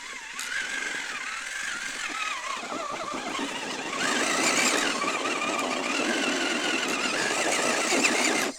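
A Traxxas Summit RC truck on Mickey Thompson Baja MTZ tires climbs a slope, its electric motor giving a whining, squealing drone that rises in pitch and grows louder partway through. The sound is continuous and close.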